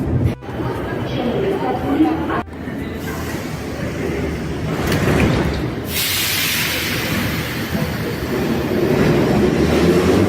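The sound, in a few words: metro train running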